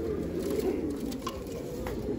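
Tumbler pigeons kept as show birds, cooing low and steady throughout amid a busy aviary background with faint chatter of other birds.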